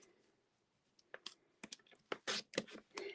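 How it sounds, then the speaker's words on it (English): Cardstock is cut into rectangles with a series of close, crisp snips and scrapes, starting after a quiet pause and growing denser and louder toward the end, with no talking. "I'm going to cut this into 3 rectangles"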